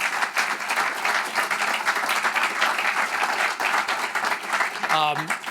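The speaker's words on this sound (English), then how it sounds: "So thank you to our teams that produced this event. Please give them a round of applause." An audience at a live civic event in St. Louis applauds the production teams, with dense, sustained clapping filling the room throughout, loud and steady with scattered cheers mixed in.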